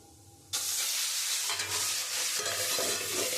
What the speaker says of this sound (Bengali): বোয়াল মাছ খুব ফাটে তাই খুব সাবধানে বোয়াল মাছটা ভাজতে হবে